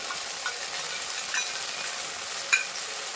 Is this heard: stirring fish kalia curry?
yes